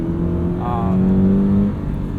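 A 2017 Toyota 86 with automatic gearbox and FA20 engine pulls hard on a race track, a loud close engine note holding a steady tone with a brief higher harmonic rising midway.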